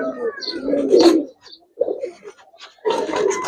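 Pigeons coo at a pigeon farm keeping Giribaz and coloured breeds, with several throaty, rolling coos close by, breaking off into a near-silent gap before a fresh burst of cooing and fluttery noise resumes.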